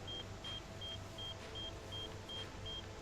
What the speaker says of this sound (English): And so what is that beeping?